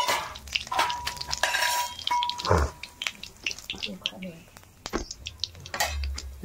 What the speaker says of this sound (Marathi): ते तेल ओततो मी ह्याच्यात. ह्याच्यात जिरी मोहरी टाकतो.